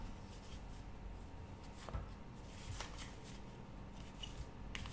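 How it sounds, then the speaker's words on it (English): A deck of tarot cards is shuffled softly at close range, a quiet riffle of papery flicks and light taps in an irregular rhythm, faint and intimate, with a louder snap at the very end. "listen to the sound of the cards, the deck,"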